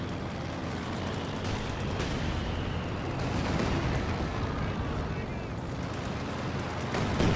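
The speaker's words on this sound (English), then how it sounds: "these are all the Katishas just shelling their base from way back here" Katyusha rocket artillery in the Company of Heroes 2 video game shells a base, making a dense, continuous roar of distant blasts and rumbling impacts that blend into a thick wash of battle noise.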